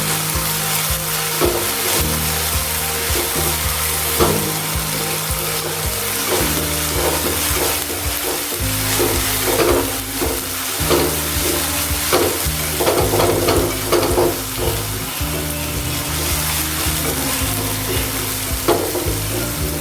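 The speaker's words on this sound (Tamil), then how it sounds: "இஞ்சி பூண்டு பேஸ்ட்டோட நல்லா பச்சை வாசனை போகிற வரைக்கும் நல்லா வதக்கிக்கோங்க." Ginger garlic paste sizzles and fries in a pan for a country chicken gravy, with steady crackling and repeated scraping stir strokes, loud and close, continuing without talk.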